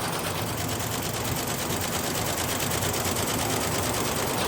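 Computerized embroidery machine stitching a design in a workshop, heard as a loud, dense, steady mechanical chatter that runs unbroken throughout.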